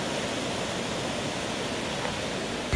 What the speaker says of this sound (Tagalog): Ipinagmamalaki rin ng Basilan ang Bulinga Falls na nasa Lamitan pa rin.